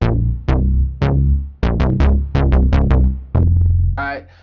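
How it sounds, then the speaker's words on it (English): Jupiter Unison Bass synth patch from Expand plays a sequence of punchy, deep bass notes with sharp attacks and decaying tails, a slow then quicker rhythm of about a dozen hits, loud and alone. "It's called Jupiter Unison Bass, and it sounds like this."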